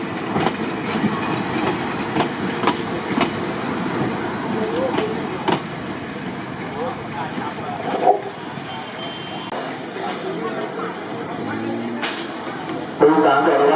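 Railway carriages being shunted at Thonburi station in Thailand, a steady rumble of rolling stock with occasional clanks and a louder bump near the end, with faint announcements and voices in the background.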